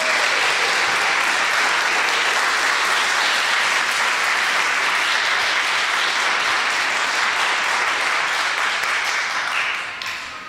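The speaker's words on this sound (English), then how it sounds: "so I hope you hear us clapping for you" An audience at a community gathering gives a sustained round of clapping, loud and even for about ten seconds before tapering off at the end.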